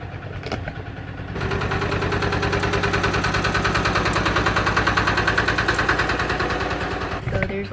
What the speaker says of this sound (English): There's a tractor coming by.